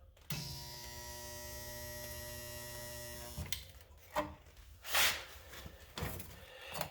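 A spot welder fuses a car body panel, with a loud, steady electric buzz held for about three seconds, followed by a few clunks and handling knocks close by.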